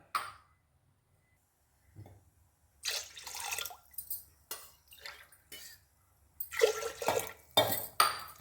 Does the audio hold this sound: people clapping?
no